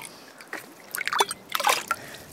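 Fertilizer solution poured into a 10-liter bucket for feeding strawberry plants, giving a few short splashy trickles and drips that come in small bursts, close by and fairly quiet.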